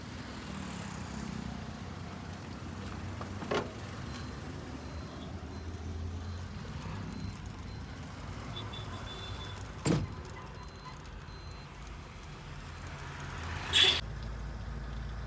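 A modified RJ truck rolls along a highway near the Tumkur toll, its engine and road rumble steady throughout, with a few brief louder knocks and thumps over the cabin noise and no talk.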